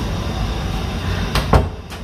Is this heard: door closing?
yes